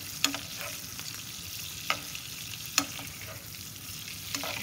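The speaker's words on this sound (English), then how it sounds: "again the same, basting the fish" Fish in a pan sizzles at a low, steady level while spooned fat splashes over it in a few sharp, spaced bursts.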